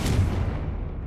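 A Confringo blasting spell in Hogwarts Legacy bursts with a loud, close, low boom that decays over about a second, alone without talk.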